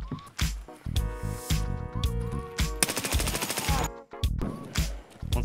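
Rapid automatic gunfire in Escape from Tarkov, a dense burst of shots in the middle amid game sounds and scattered single reports, moderately loud and close.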